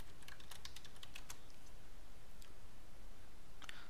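Quick, irregular bursts of clicking keys on a computer keyboard as login credentials are entered to join a domain, close and crisp, with a pause midway before a final short flurry.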